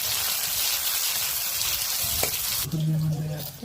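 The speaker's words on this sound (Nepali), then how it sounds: "अनि प्याज राखेँ। त्यस राखेर एकछिन भुन्ने," Onions sizzle in hot oil with fenugreek seeds and whole spices for a fish curry, a steady close frying hiss that shifts partway through to a softer sizzle with a faint tonal hum.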